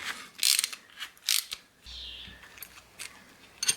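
Metallic ratcheting clicks and scraping as a nut is undone and the tailgate stay mechanism of a 1968 MGC GT is taken apart, several close sharp bursts with short pauses.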